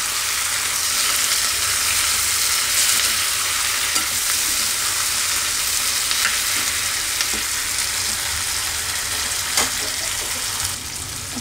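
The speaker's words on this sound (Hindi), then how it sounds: "भून लेंगे थोड़ी देर, टमाटर भी भूनेंगे।" Tomatoes frying in a pan for a dhaba-style matar paneer makhana curry, a steady close sizzle with occasional stirring clicks and scrapes throughout, no talking.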